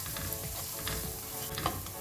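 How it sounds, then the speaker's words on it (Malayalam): Carrot, cabbage and green chilli sauté with onion in a pan for vegetable semiya upma, a close, steady sizzle broken by a few light stirring scrapes. "നമുക്ക് ഇതിലേക്ക് ക്യാരറ്റ്, കാബേജ്, പച്ചമുളക് നന്നായി ഒന്നുകൂടി ഒന്ന് വഴറ്റിയെടുക്കാം."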